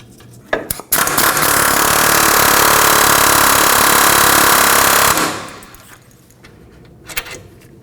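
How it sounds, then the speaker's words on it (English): Air hammer driving a socket to push out a front wheel bearing on a 2013-2019 Nissan Sentra: a loud, rapid, continuous hammering burst of about four seconds, with a few metallic clanks before and after it. "I'm going to be using my air hammer with my socket directly on each one of the bolts"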